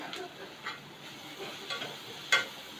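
Onion frying soft in a pan for a Konkan monsoon wild-vegetable dish, a faint low sizzle with a few light stirring ticks and one sharp clink near the end.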